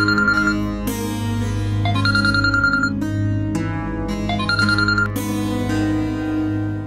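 A mobile phone ringtone plays loudly and steadily for several seconds, a repeating bright melodic pattern of electronic tones in an indoor home scene, with no speech over it.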